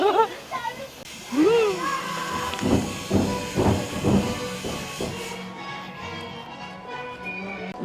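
A haunted house fog machine hisses out green fog as a steady broadband rush beneath excited voices of several people, then cuts off abruptly partway through.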